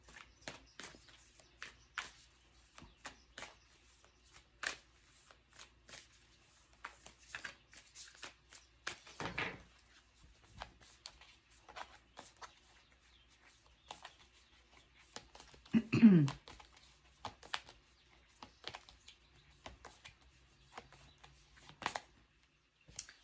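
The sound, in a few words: shuffling Moonology oracle cards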